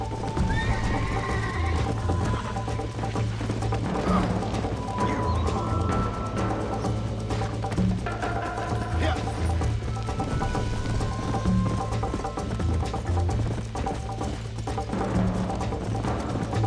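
Galloping horse hooves pound steadily throughout a race in Red Dead Redemption on Switch, joined by occasional neighs and snorts over continuous game ambience.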